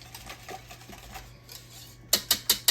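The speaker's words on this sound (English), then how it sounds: "I'm gonna whisk that up there as much as possible" Whisking banana bread batter in a bowl: a steady series of light rhythmic scraping taps, closing with several sharper, louder strikes against the bowl.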